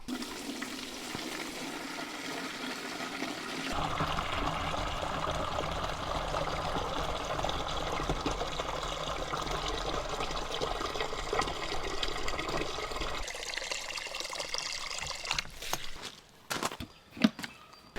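Water from a hose rushes steadily into a poultry watering container with a broad, splashing hiss, continuing for several seconds before cutting off into a few knocks and clatters.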